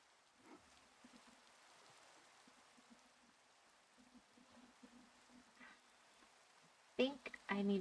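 Rain falls in Minecraft as a soft, steady hiss that runs faint in the background for several seconds before a sudden louder burst of sound breaks in near the end.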